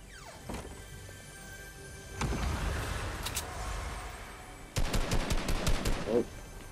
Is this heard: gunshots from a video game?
yes